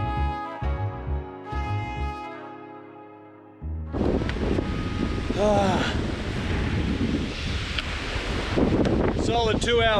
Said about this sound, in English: Fortunately we had the wind up our kilt, but geez, it's howling.